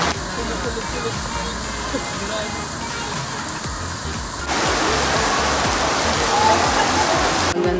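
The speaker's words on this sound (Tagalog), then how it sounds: "Dahil malakas ang ulan." Heavy rain pours down in Ilocos Norte in a dense, constant hiss that abruptly grows louder partway through, with a voice faintly audible under the downpour.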